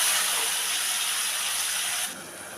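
Steady, bright hissing sizzle from masala frying in a pan right after chickpea boiling water is poured in for ghugni, close and even until it drops quieter near the end.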